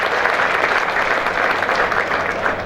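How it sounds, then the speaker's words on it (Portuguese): Steady, dense applause from an audience at a farm lecture on Fazenda Mandacaru, a continuous wash of many hands clapping at even loudness with no voices over it. "Uma salva de palmas para o Dr."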